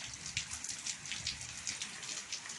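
Rain falls on parked vehicles outside as a soft, continuous hiss of droplets with slight fluttering pulses, fairly faint and without voices.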